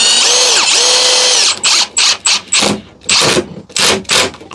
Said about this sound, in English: I'm just going to screw straight in from the side